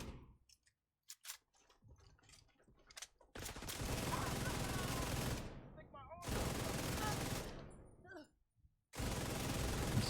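An MK46 light machine gun in The Division 2 fires in long rapid bursts, dense rattling volleys separated by short gaps, after scattered single cracks at the start.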